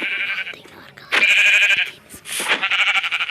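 Minecraft sheep bleat several times in close, loud calls, one after another with short gaps between them.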